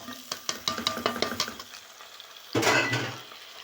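A spoon scrapes and clinks rhythmically in a pot of onions and grated carrots, then a louder rush and sizzle as peas are tipped in for rice with peas, close and clear with no talking.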